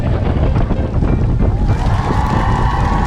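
Strong gusting wind buffets the microphone during a bike ride, a loud, dense low roar that stays continuous throughout, with a faint tonal whine rising in the second half.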